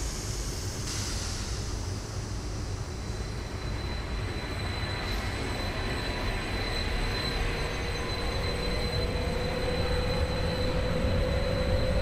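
An SBB RABe 523 electric train pulls away in Train Sim World 4 on a winter route in Vorarlberg, Austria, with a continuous rumble of wheels on rails and a slowly rising motor whine, loud and close, with no voices.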